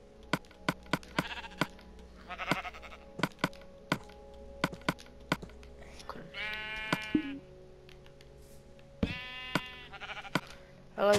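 A Minecraft sheep bleats in several short wavering calls, loud and close, amid sharp regular clicks and taps from the game.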